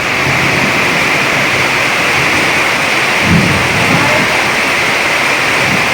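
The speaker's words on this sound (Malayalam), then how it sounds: "കാറും കാര്യങ്ങളൊക്കെ ആയിട്ട് നല്ല മിന്നലുണ്ട്, ഇടിവെട്ടുമുണ്ട്" Steady, loud rain pours down in a dense broadband hiss during a thunderstorm with lightning, with a brief low rumble of thunder rolling in partway through; no voices.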